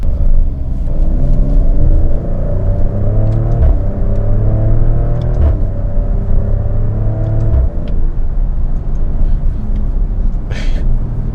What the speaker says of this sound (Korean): 지금 확실히 D 모드로 밟아보니까 팝콘이 터진 게 느껴지는데